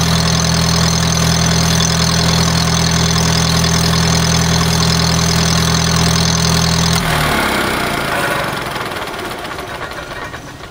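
A Kohler emergency light plant generator engine drones loudly at a steady idle, then shuts down, its hum fading away over the last few seconds.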